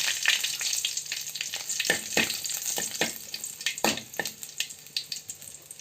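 Green chillies dropped into hot oil with popped mustard seeds, frying with a crackling sizzle and sharp spattering pops, close and fairly loud.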